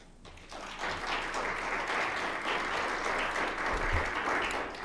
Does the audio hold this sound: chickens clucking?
no